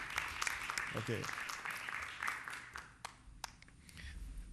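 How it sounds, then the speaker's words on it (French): Applause from an audience at a Nobel Prize fiftieth-anniversary ceremony honoring a guest, a broad steady patter of many hands with a brief spoken word over it before fading slightly. "donc je vous demande d'applaudir"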